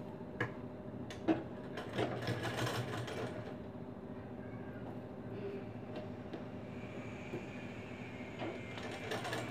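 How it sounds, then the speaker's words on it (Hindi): A sewing machine stitches a seam on a blouse, running as a steady mechanical whir with light ticking clicks and a few sharper knocks, at moderate distance and fairly quiet. "ठीक उसी तरीके से दूसरे साइड भी यहाँ पर सिलाई लगा लेना है।"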